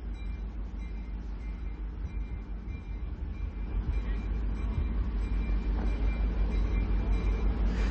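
A North Shore Scenic Railroad train passes along the Duluth Lakewalk as a low, steady rumble that grows slightly louder partway through, heard from a moderate distance.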